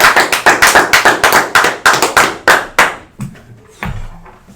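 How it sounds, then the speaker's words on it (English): Audience applause for a guest, Dr. Patrick Hardy, on a talk show: a burst of loud, close claps that trail off into a few scattered claps and quiet by the end. "Give a round of applause."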